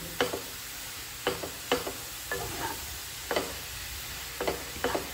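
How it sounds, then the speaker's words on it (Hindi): Stirring and roasting in ghee in an uncovered open pan, a soft continuous sizzle broken by about ten sharp scraping strokes of the spoon at an uneven pace, close by and with no talking. "ओपन पैन में ही हमें इसे जो है ना अच्छे से घी में भून कर ले लेना है"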